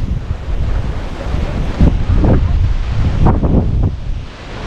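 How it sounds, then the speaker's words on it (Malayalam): Strong, gusting wind roars across the hilltop at Ramakkalmedu in Idukki, a loud, continuous rush that buffets the microphone and swells in surges throughout. "കാറ്റ് എന്ന് പറഞ്ഞാൽ സാധാരണ ആയിട്ടല്ല കൊടും കാറ്റ് പോലത്തെ കാറ്റടിക്കുന്നത്"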